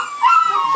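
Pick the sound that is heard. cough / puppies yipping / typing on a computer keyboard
puppies yipping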